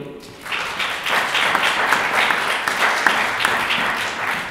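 A conference audience applauds at an event on entrepreneurship and innovation in the French overseas territories, with sustained, even clapping from many hands after a short quieter start.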